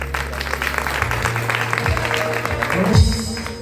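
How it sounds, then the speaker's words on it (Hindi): An audience at a birthday gathering for Dr. Bhimrao Ambedkar claps in his honour, sustained clapping running beneath low electronic hum and tonal feedback from a sound system, with a brief rising squeal toward the end. "इसलिए एक बार बाबा साहब के नाम पर ताली बजाइए"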